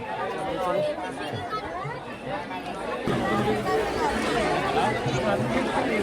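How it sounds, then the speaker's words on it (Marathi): Crowd chatter fills the Kodali Mauli Devi village fair, a steady babble of many voices close by that grows a little louder partway through, with someone talking over it. "तर मंडळी बघू शकतात जेवणासाठी अजून पण गर्दी असतात"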